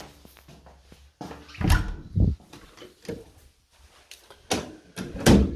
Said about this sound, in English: So the door open and closes fine.